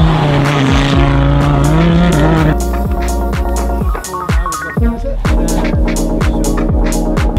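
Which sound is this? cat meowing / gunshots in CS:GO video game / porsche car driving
porsche car driving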